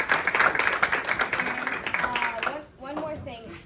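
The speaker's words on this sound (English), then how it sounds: "we can give a round of applause for that" A church congregation applauds after the Sunday announcements, a dense burst of many hands clapping that fades out partway through as a voice resumes talking.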